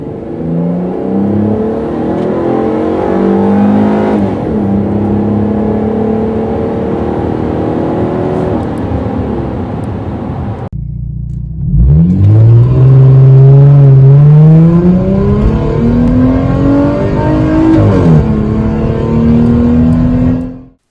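A 2008-era Dodge Challenger accelerates hard, its engine note rising in pitch through the gears, then cutting off briefly before revving up loud again and pulling strongly through several more upshifts, close and without talk.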